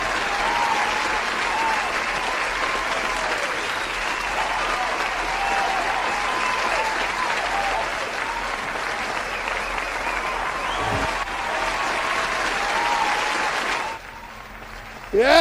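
A studio audience claps and cheers in sustained, dense applause for about fourteen seconds, then drops off abruptly near the end.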